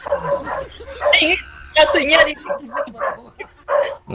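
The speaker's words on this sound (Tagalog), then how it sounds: "Maingay ho kasi yung aso" Dogs bark and yip close by in a series of sharp bursts, interleaved with people talking over them.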